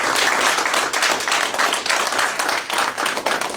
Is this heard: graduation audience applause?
yes